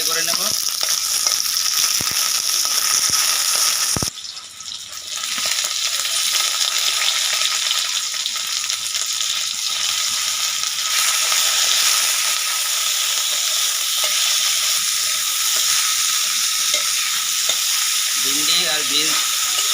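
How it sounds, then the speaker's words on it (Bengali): Okra and beans half-frying in oil in a pan, a loud, continuous close sizzle and hiss with occasional stirring scrapes and brief lulls. "ভেন্ডিগুলো হাফ ফ্রাই করে নেব।"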